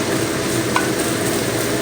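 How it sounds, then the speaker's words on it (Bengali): Chopped ginger frying in hot oil for momo, a dense, steady sizzle with a faint stir or clink of a spatula, close and continuous with no voices. "এবার দিয়ে দেবো কুচিয়ে রাখা আদা"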